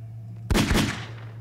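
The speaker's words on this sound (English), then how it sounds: "You have a gun? Yeah, my gold revolver." A gold revolver fires in a modded Minecraft game, two quick close shots with a sharp crack and a short decaying tail, over a low steady hum.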